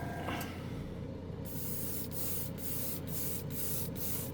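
Aerosol paint sprayed in quick passes over plastic from about four inches away, a continuous hiss followed by several short, evenly spaced bursts, close and fairly quiet.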